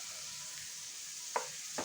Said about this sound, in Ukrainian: Обсмажені наші грибочки з цибулькою ось до такого кольору